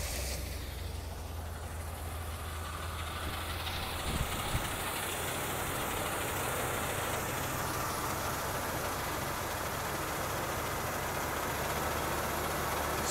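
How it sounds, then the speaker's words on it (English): Cold 1973 Ford Galaxie 500 hardtop engine runs on fast idle, a steady, unbroken mechanical rumble with a low hum that holds close and even throughout, with no talk. "Now it is cold, so it'll run on fast idle for a minute."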